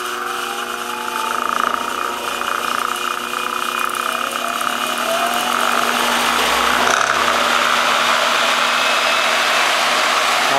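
A treadmill motor drives an 8-frame honey extractor at just over 2,000 RPM, giving a steady, fairly loud mechanical whine and hum that runs on without a break, with no voices over it.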